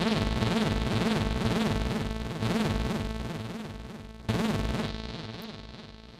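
A gritty, distorted TAL NoiseMaker synthesizer chord plays loud and continuous, swelling and fading in a few repeated notes, each restrike bright and harsh.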